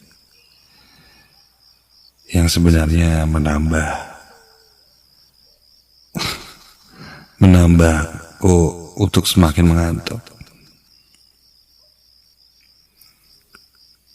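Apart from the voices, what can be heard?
crickets chirping at night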